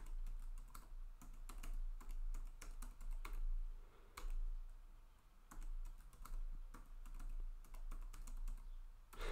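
A password is typed on a computer keyboard in a continuous run of close, clicky keystrokes, irregular in rhythm, over a low steady hum with no voices.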